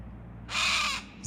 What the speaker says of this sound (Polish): O, jakieś ptaki. Papugi